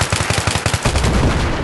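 Rapid automatic gunfire from Battlefield 3 runs in a steady, evenly spaced burst of loud, close shots. It then smears into a denser roar of overlapping fire and blasts.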